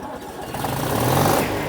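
The second flat-twin engine of a Citroen 2CV Sahara four-wheel-drive cranks and catches close by, rising into a loud, throbbing idle alongside the other engine already running.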